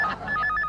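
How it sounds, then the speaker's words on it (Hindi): A telephone rings in a domestic comedy scene with short, bright electronic trilling bursts, loud and close, heard alone for under a second. "फोन"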